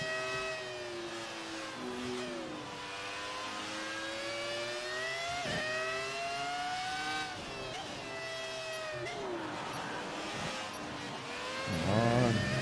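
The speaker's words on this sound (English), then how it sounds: "passing all these classic Ferraris" Classic Ferrari racing cars in F1 2018 roar past with steady high engine whine and rising, falling pitch sweeps as each is overtaken, a continuous loud drone with a brief burst near the end.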